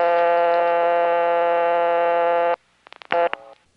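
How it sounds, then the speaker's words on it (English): Dial tone on a rural telephone exchange line from 1974: a steady, buzzy, harmonic-rich tone holding for about two and a half seconds, then abruptly cut off and followed by a few sharp clicks. "what I would hear when I picked up the phone in that rural place was"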